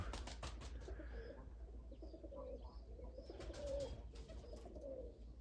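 Free-flying Budapest pigeons cooing in low, rolling calls that repeat across the stretch, fairly close, over a steady low background hum with a faint flutter or two.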